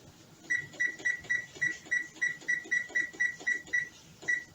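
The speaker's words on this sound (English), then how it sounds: "That's my timer." A kitchen timer goes off while Swiss steak cooks, beeping a steady string of about a dozen short, high, clear tones at an even rhythm, loud and close with no talking.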